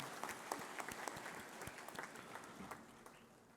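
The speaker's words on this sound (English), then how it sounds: "Please give a clapping to all your teachers and staff members." A university convocation audience applauds in a large hall, a dense steady wash of clapping heard from a distance that fades slightly toward the end.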